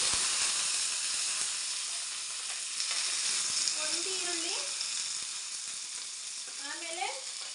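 Onion fries in about two tablespoons of hot oil for sambar, making a loud, steady, close hiss and sizzle throughout, with short bits of talk partly over it.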